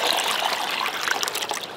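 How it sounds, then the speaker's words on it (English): Fresh water pours from a container into a bucket at a camping site, a steady close splashing trickle running unbroken for the whole moment. "I'm getting fresh water with a separate bucket"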